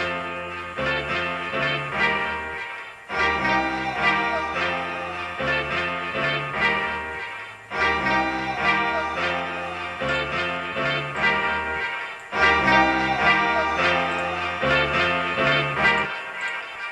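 A looped hip hop instrumental beat with punchy drums, bass and layered samples drawn from records, repeating in short cycles with brief drops between phrases, playing loud and alone.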